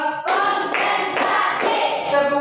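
Rhythmic hand clapping by a class playing a counting clap game in an Indonesian Islamic education classroom, sharp close claps in a patterned beat over sustained voices chanting along.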